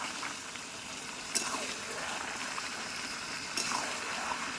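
Chicken cooked in ground spice paste fries in a pan with a steady close hiss and crackle, broken by a couple of brief scraping stirs, with no voices.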